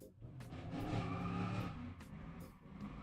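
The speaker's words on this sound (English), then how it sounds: "there's somebody being absolutely obnoxiously loud outside with a motorcycle" A motorcycle roars loudly somewhere outside, its engine revving and rumbling in a broad sustained wash that swells and fades over a few seconds, with no voices.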